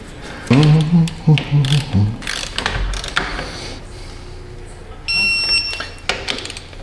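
A torque wrench tightens wheel bearing bolts on a Toyota Prius during a rear wheel bearing and brake job, making quick ratcheting clicks in short bursts followed by a sharp click-type alarm near the end, close up.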